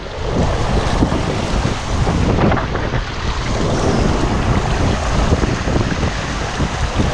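Wind and rushing water roar steadily on a water slide aboard the cruise ship NCL Getaway at sea, a loud, continuous broadband rush with gusty buffeting close to the microphone and no speech.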